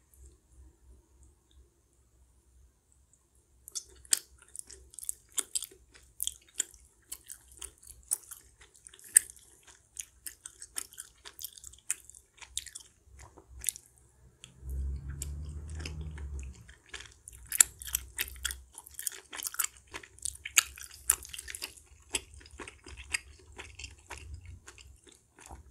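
Someone eats spicy carbonara rice cakes and noodles up close, with soft wet chewing, slurps and small clicks, after a quiet start and a brief low rumble in the middle.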